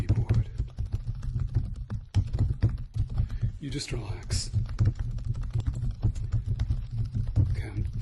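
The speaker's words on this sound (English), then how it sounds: "I'm typing at double speed just so we get this all done and dusted" Rapid typing on a computer keyboard, a dense run of light clicks and taps close to the mic, with a voice speaking softly over it and a steady low hum underneath.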